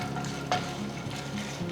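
Peanuts and lentils roasting in hot oil in a pan for raw mango rice, giving a soft, steady sizzle with faint crackles and a brief stirring scrape, close and quiet.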